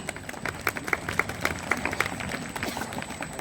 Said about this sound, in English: A big round of applause for Greenhouse